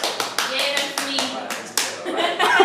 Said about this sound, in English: let's go ahead and hear applause for the snail